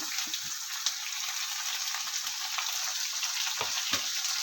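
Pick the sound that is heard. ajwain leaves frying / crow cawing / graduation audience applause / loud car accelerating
ajwain leaves frying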